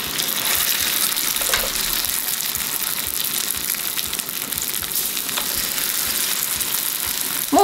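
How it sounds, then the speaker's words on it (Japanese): Eggplant coated in potato starch frying cut side down in a pan over medium heat, giving a steady, even sizzle that runs the whole time with small crackles, close and fairly loud, with no talking. "中火で焦げ目がつくまでね、パリッと焼き上げていきます"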